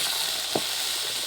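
Eggplant dropped into a pan of hot fish oil with fried onion, a steady bright sizzle throughout with one soft thump as the pieces go in, no voices.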